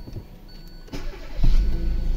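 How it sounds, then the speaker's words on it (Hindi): A 2019 Hyundai Elantra engine cranks and starts after battery wiring work, a brief low churn rising into a steady idle rumble, heard up close with no talking. "अब गाड़ी चालू करता हूँ।"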